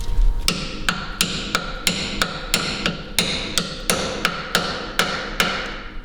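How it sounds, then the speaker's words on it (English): A lump hammer drives a tool into the head of a brake caliper bolt while a rear Brembo caliper is being changed. About sixteen sharp metallic blows land in a steady, even rhythm, loud and close, with no talking. "I'm actually going to hit that in with a lump hammer"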